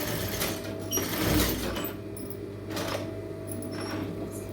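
A sewing machine stitches across canvas fabric in short bursts of close, rapid whirring, pausing briefly between runs as the cloth is repositioned, with no voices.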